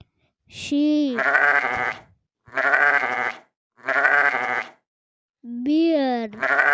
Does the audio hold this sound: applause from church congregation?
no